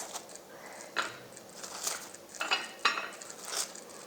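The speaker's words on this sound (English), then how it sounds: "So now I'm just going to plate this." Sweetcorn bhajias being plated on a dish, with a few light clinks and taps of utensils against crockery at irregular moments, close and crisp in a quiet kitchen.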